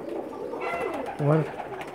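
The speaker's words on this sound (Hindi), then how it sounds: "ये उस्ताद सखी साहब के कमग्गर कबूतर थे" Pakistani pigeons coo softly, a rolling murmur with one louder, fuller coo near the end, close by with faint background noise.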